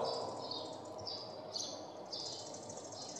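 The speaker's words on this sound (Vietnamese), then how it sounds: "cái mình nghe tiếng chim kêu đó" Birds chirp outdoors in a series of high, bright calls over a constant buzzing background, moderately close and without speech.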